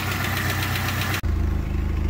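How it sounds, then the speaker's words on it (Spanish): A 1991 Dodge Spirit R/T engine idles close by with a tapping valve lifter, giving a steady ticking rhythm over the low hum. The sound drops out briefly midway, then the idle resumes. "Le está sonando poquito una puntería, pero necesita cargar los buzos"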